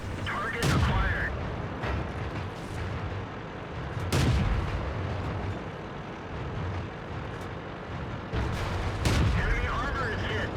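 Tank cannon shots boom in the World of Tanks game on the Fisherman's Bay map, three heavy blasts at spaced intervals over a constant engine rumble, with a voice talking between them.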